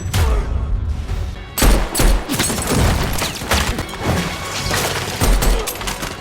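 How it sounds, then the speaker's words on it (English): Gunfire erupts at a festival in a dramatized action scene, loud bursts and sharp cracks clustered in rapid volleys with crashing impacts, filling the space without pause. "Chaos erupts as gunfire breaks out in the middle of the festival"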